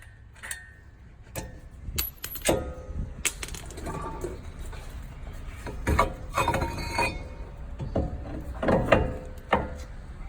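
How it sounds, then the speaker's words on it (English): Metal wrenches and sockets clink and click while the two 21 mm brake caliper bolts come off the back of a Ram 1500 during a Bilstein 5100 shock install. The taps and clatters are sharp, irregular and close. "Removing the caliper is 2 21 millimeter bolts in the back."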